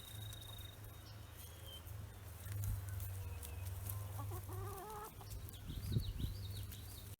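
Chickens cluck softly nearby over a steady low hum while being fed pelleted feed, with a few short, louder clucks toward the end and insects faintly chirping.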